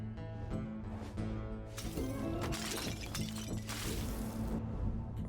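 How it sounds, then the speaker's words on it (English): Frost Wolves Shatter effect in Death Must Die, a burst of bright glassy shattering and icy crackle over a steady tonal game-music bed, sustained across the middle of the span. "Frost Wolves Shatter."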